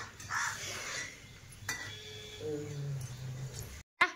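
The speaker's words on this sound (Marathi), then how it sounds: "अगो बाई कावळा घेऊन गेला लाडू" A crow caws a few times near an outdoor wood-fired stove where besan laddoos are set out, harsh calls breaking through faint background noise before a sharp clatter at the end.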